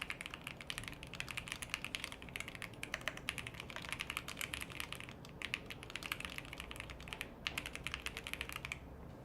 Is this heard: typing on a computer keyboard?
yes